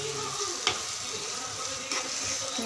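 Fish curry masala sautés in oil that has separated to the surface, a dense continuous sizzle close up with two brief stirring scrapes, no voices.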